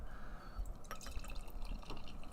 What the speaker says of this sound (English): Let's pour this guy and see what this thing's all about.